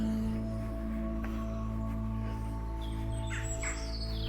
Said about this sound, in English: It's a fairly cold, bleakish day, but the birds are singing nevertheless.